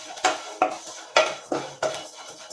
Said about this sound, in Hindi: इसे हम हल्के ब्राउन होने तक फ्राई कर लेंगे